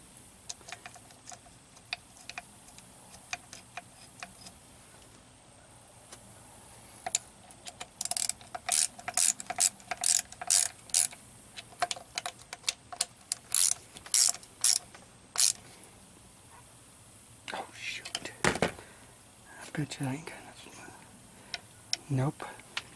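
Ratchet clicking in quick bursts while tightening a 3/8 bolt on the carburetor linkage of a Johnson 15 HP outboard, rapid ticks in several short runs, with quiet handling noises and a voice between them.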